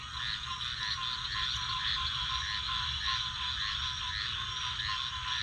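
Dense chorus of frogs croaking in a preserved Florida wetland, a steady, loud layered trilling and calling throughout with no voices.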